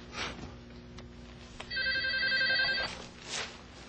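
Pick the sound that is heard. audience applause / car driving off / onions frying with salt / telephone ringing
telephone ringing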